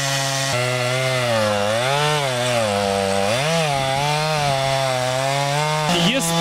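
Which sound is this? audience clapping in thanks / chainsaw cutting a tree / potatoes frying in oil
chainsaw cutting a tree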